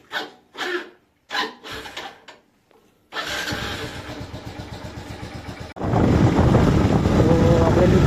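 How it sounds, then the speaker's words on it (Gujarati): A motorcycle is cold-started on a chilly morning: a few short bursts of sound come first, then the engine catches into a close, pulsing idle before swelling into a louder, steady roar. "બાઈકને પહેલાં કોલ્ડ સ્ટાર્ટ કરી દેવી"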